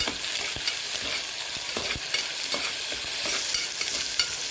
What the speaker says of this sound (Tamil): இது நல்லா கலந்து விட்டு வதக்கி விட்டுக்கலாம்